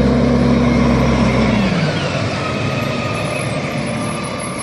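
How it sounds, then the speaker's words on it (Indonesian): A toy garbage truck gives off a steady, engine-like drone that fades after a couple of seconds into a softer, even hiss, close and fairly loud. "Lihat teman-teman, ini truk sampah."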